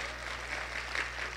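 Church congregation applauds the band in a faint, steady patter of clapping over a low electrical hum in the hall.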